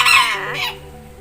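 A single short, close bantam chicken cluck rises then fades, with no other sounds around it, in Trang, Thailand.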